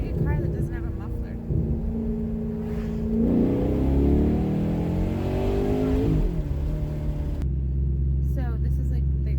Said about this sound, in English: It sounds like a car that doesn't have a muffler.